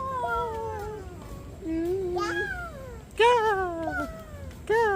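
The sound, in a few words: cat meowing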